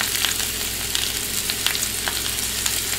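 Seasoned vegetables sautéing in a pan, a steady close sizzle with a few faint scrapes from stirring and no talking.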